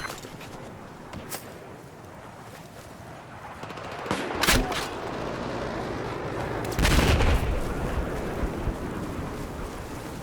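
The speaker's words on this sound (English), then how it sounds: "I'm getting sniped at." Sniper fire in Battlefield 4 on the Paracel Storm map, heard as a few sharp, loud cracks ringing out over steady wind, waves and rumbling ambience, with a heavier blast near the end.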